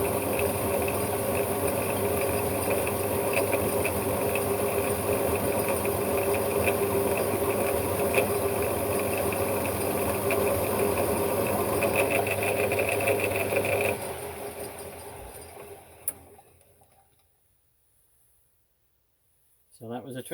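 A metal lathe turns a 20 thou cut on a part for a 7.25 inch gauge BR Standard Class 4 tender locomotive, a steady close machining whir that runs evenly before tapering off and stopping near the end.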